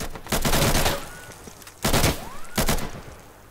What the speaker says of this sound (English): He's shooting through the smoke.